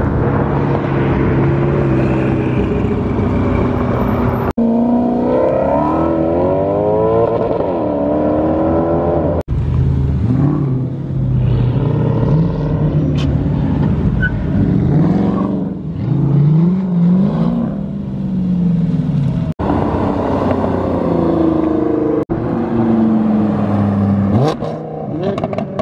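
Cars stream past on a busy road close by, engines whooshing and revving one after another in a steady, loud flow of traffic with no talking.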